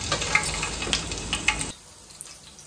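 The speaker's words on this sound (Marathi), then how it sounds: "मिरची तळून घेतलेली आहे." Green chilies sizzle and crackle in hot oil in a home kitchen, with popping bursts and stirring for under two seconds before the frying abruptly cuts to near quiet.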